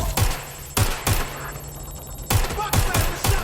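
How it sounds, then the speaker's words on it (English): Loud bursts of gunfire in the video game Watch Dogs: Legion crack out in irregular shots, seven or so sharp reports, over a low rumbling background. "Gunfire!"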